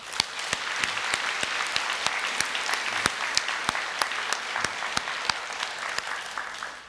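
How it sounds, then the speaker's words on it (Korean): A church congregation applauding in thanks, a steady dense wash of clapping with sharp individual claps standing out, continuous and fairly loud throughout. "우리 같이 감사의 박수를 우리 함께"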